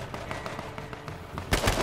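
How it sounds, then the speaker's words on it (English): Gunfire in the survival video game H1Z1 as two vehicles shoot at each other in the hills, a steady string of quiet distant shots ending in a louder, closer burst. "The sound of the gunfire rang through the hills."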